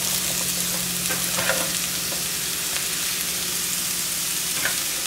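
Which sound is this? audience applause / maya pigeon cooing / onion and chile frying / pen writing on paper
onion and chile frying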